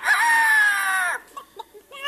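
A person imitates a bird, giving one long high, rooster-like crowing call followed by a few short clucking sounds.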